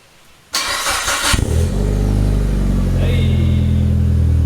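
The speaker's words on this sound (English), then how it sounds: "Alright, we're gonna start it." A Mitsubishi Evo fitted with an Invidia exhaust cranks with a short starter whir, then fires into a loud, deep, rumbling idle that settles and holds steady, heard up close.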